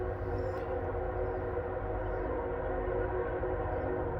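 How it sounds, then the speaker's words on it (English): A train rumbles past at a distance in North Idaho, a steady low roll with a brief faint horn-like tone near the start. "you're going to be near a train."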